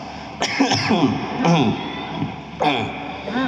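Three short, harsh coughs or throat clearings from a preacher break out at intervals, close to the microphone, separated by brief pauses with a low background murmur.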